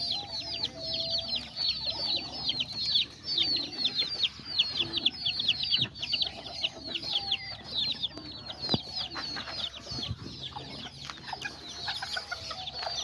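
Young chickens, chicks and a small rooster in a pen make rapid, continuous high peeping and clucking, many birds calling over one another at close range.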